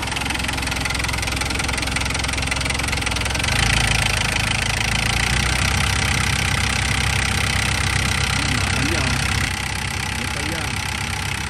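A car engine in for service idles roughly and misfires, a loud, continuous running drone with an uneven knocking stumble throughout, while voices talk faintly underneath.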